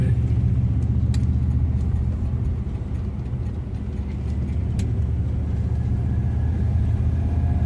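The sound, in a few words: classic car driving on local roads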